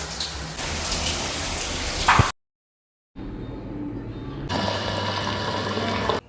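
Hotel room shower at a Hub by Premier Inn in Goodge Street, London, runs with a steady close hiss of falling water, cutting out briefly to silence before resuming at full flow.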